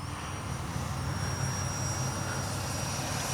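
A Freewing Yak 130 70mm electric ducted-fan RC jet roars past on a speed run, a steady broadband rush with a thin high whine, moderately loud and continuous.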